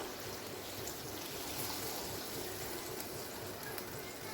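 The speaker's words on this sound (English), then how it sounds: "Now it's time to add water." Water is poured into a pan of potato and egg masala curry, a continuous soft trickling and splashing that stays even throughout, close by and free of talk.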